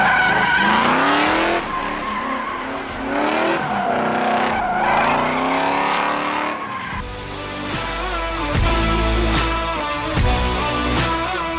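A Nissan Cefiro drifts through donuts at a drift school, its tires squealing loudly under a revving engine, then the squeal gives way to steady engine drone with sharp bursts of tire noise near the end.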